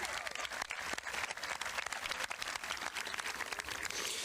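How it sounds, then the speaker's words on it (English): Sustained audience applause at a high school graduation ceremony, dense clapping from a large crowd filling the hall continuously without pause. "Let's give these student athletes a round of applause."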